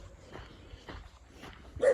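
Puppies met along the Florida Trail give a few soft, faint yips and whimpers spaced through a quiet outdoor moment, ending in a louder bark-like burst, with no speech.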